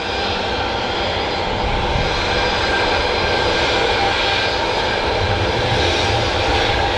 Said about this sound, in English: See if we get a wave, shall we, off these Ryanair pilots?